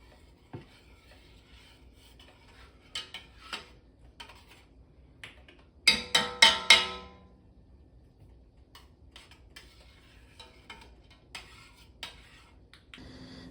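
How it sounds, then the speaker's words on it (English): A spoon scrapes and clinks in a pot of vegan pizza sauce, with sparse scattered taps followed by a brief burst of rapid stirring strokes, then quieter occasional scrapes. "we're going to give that a good mix, and we're going to stir it occasionally and let that cook"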